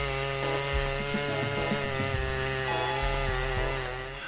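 Big chainsaws, a Stylemaster C181 and a Farmer Tech E808 with 7.4 horsepower, cut through giant oak trunks with a loud, steady engine drone and bursts of revving, continuous and close throughout.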